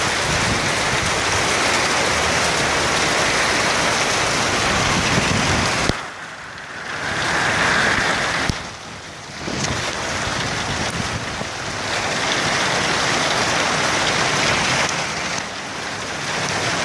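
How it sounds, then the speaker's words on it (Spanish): Heavy rain pours down in Siloé in a dense, steady hiss, easing briefly a couple of times before returning full strength. "Sigue lloviendo fuertemente en Siloé."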